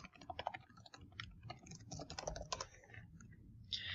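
Quiet, close computer keyboard typing as an email address is entered, a steady run of light key clicks in irregular quick bursts, with no talking.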